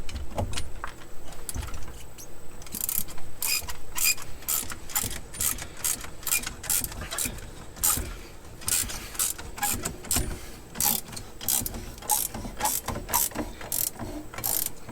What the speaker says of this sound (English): You just put it between the wheels and tighten it up.